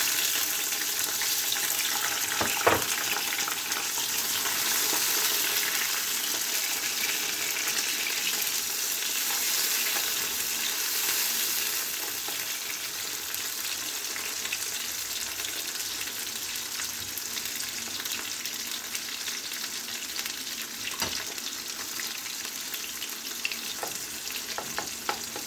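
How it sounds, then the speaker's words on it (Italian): Sicilian peperonata base browning in a frying pan, a loud steady sizzle and crackle of oil throughout, with scattered stirring clicks and scrapes close by. "lascio rosolare un attimo"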